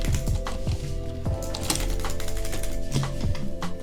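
Quick irregular clatter of keys on a computer keyboard cut in half, tapped during a video game, close and fairly quiet with bursts of rapid presses and short pauses.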